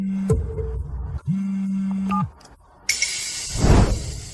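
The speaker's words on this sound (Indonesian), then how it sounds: "Dia menutup telepon lagi." A phone line cuts off after a hang-up: two flat, low electronic tones each hold for about a second, separated by short gaps and a faint blip, then give way to a sudden rushing swoosh.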